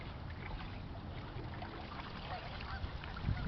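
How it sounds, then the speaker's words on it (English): Canada geese on a river, a group calling with faint, distant honks that are buried in a steady, noisy outdoor wash of water and wind. "So there's a bunch of Canadian geese."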